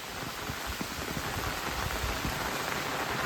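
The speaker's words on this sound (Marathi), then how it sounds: "जबरदस्त पाऊस इलो." Heavy rain pouring steadily in rural Konkan, a dense, even hiss of drops with faint scattered patters, heard alone.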